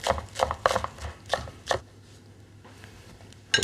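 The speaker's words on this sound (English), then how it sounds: "I always chop off the end." Spring onion ends chopped with a knife on a board, giving a quick run of five or six close, crisp thuds followed by quiet, and one final knock at the end.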